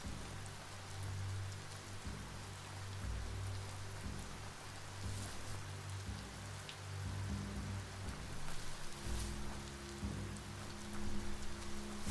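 Steady, even hiss of rain falling on a muddy path in the video game BioMutant, a continuous soft downpour with a faint low rumble beneath and no voices.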